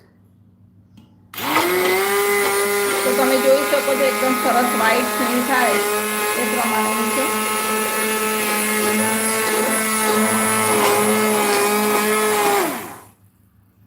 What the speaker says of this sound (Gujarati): આને આપણે મિક્સરથી ગ્રાઇન્ડ કરીશું